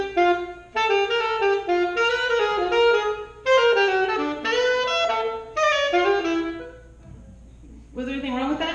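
A bebop tune, played on what sounds like a saxophone with flat, plain articulation, comes as quick close phrases in several bursts separated by short breaths, then a brief pause before it picks up again.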